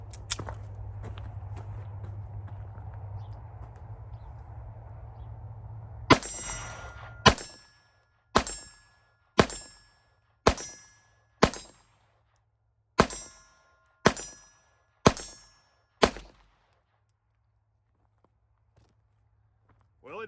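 Walther PPK/S .22 LR pistol firing a full magazine of Stinger rounds at an outdoor range, about ten sharp shots in quick irregular succession after a low steady rumble, then quiet.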